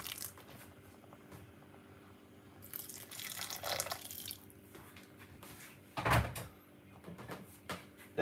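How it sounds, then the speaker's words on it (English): Boiling water from a kettle poured into cornmeal in a home kitchen, a short splashing pour followed by clinks and handling noises, fairly quiet. "I'm using some boiling water from my kettle."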